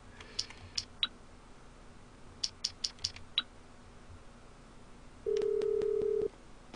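Phone keypad dialing in GTA 5 while calling an insurance company: several short separate button beeps in two quick clusters, followed by a sustained ringing tone about a second long, fairly quiet over a low background hum.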